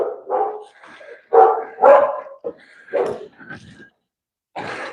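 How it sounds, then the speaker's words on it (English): A pet dog named Buster barks indoors during a morning cardio livestream, several loud close barks and yips in uneven bursts with short pauses, no talk. "let me get my dog out of the room"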